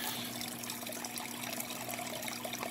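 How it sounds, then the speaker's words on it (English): Water pours steadily through a waterfall fish tank, making a continuous close rush and trickle with no talk over it. "you can instantly hear the amount of water pick up"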